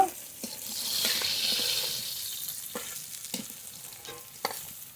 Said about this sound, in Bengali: বাকি মাছ একই তেলে ভেজে নেবো